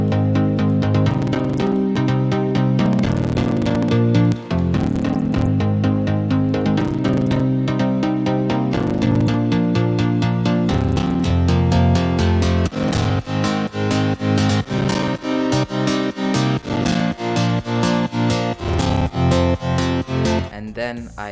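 Layered synth chords in FL Studio, with an automated filter cutoff that widens the tone, play loud and continuous. Rhythmic pulsing chord stabs become more clearly chopped in the second half, with no voices.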